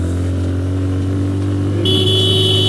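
Motorcycles on a bike tour idle and rumble close by with a steady low engine drone, a higher whine joining partway through.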